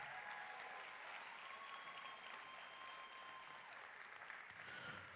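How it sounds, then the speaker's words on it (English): Continuous applause from a theatre audience at an African Heritage graduation ceremony, dense even clapping with a few faint whistles, sustained at a steady level across the whole clip. "Let's give them another big round of applause."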